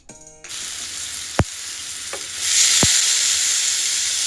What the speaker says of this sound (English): Spread the oil evenly in the pan.